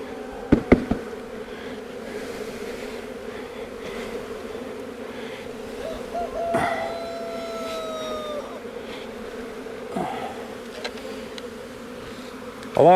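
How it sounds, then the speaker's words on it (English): Package bees buzzing in a dense steady drone after being shaken into a hive, with a few knocks and taps at the start and end, close and continuous. "Shake the bees into the empty spot."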